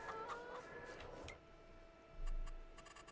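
Chickens in Farming Simulator 22 cluck softly in short scattered bursts over a steady farm ambience, with a brief low thump near the middle.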